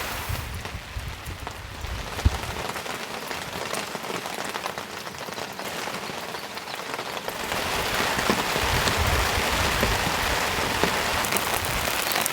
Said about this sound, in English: watching the rain falling all around you